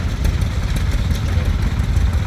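A 1970 John Deere 140 yard tractor putters by in a threshermen's show tractor parade, its small engine giving a steady, close clattering idle throughout the brief moment.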